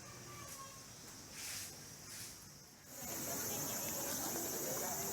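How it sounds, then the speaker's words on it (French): Soft, high buzzing of cicadas in late September in Kawagoe, Japan, grows steadier in the second half, faint and distant in a quiet outdoor setting. "on entend encore les cigales chanter."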